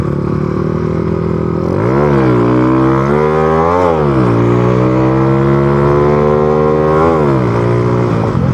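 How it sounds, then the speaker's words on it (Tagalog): A loud motorcycle fitted with an aftermarket exhaust pipe, idling close by and then revving up and down several times with a harsh, droning tone. "Kung mapapansin nyo po, maingay ang aking motor ngayon. Ako po ngayon ay naka-tsugigi pipe"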